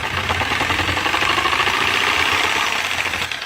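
A worn, damaged go-kart engine runs steadily at a rough, rattling idle with a knocking pulse, loud and close throughout, no voices.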